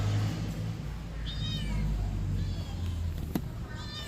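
A cat meows several times in a busy subway setting with loud low rumble and crowd noise, the faint, rising cries repeating briefly amid the background din.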